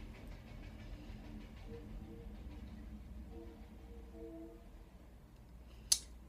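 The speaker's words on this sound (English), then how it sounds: "Sorry, there's a train going past." A train passes outside, heard as a faint, steady low rumble with a brief sharp clack near the end, distant and muffled indoors.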